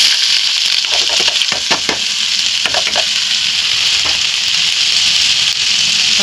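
Onion, green chili and potato sizzle loudly in hot oil with dried chili, a steady close crackle and hiss with a few bursts of stirring in the pan.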